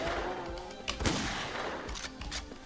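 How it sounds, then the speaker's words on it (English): Turret gunfire in a self-made indie action video game, a string of sharp bursts and shots over continuous game background noise, moderately loud with irregular spacing. "There's already some sort of turret that's shooting something."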